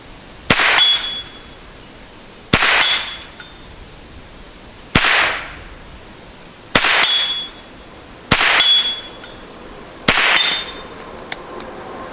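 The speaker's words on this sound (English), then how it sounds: "we hit the gong with it" Rifle rounds from a GSG16 strike a steel gong at 50 yards, six sharp shots each followed by a ringing metallic clang, evenly spaced about two seconds apart, loud with no talk.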